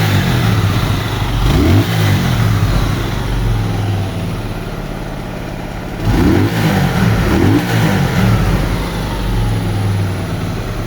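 Close Honda Mirage 250 motorcycle engine, freshly rebuilt, idling with two short revving bursts a few seconds apart, rumbling steadily in between.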